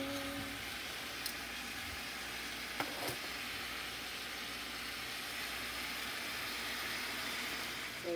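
Oxtails browning in a large pan give a steady, dense sizzle of frying meat, close and even throughout with a few faint clinks.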